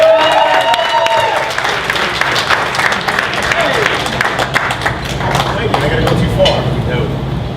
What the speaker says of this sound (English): A big round of applause for the best man